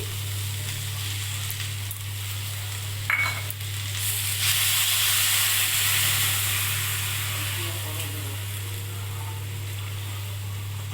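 Steady sizzling of poppy seed paste added to fried potatoes and ivy gourd in a frying pan, with a brief clink and stirring partway through, over a constant low hum.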